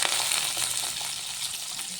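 Onion, green chillies and curry leaves fry in hot oil for a banana flower curry, giving a steady, close, hissing sizzle with no voices.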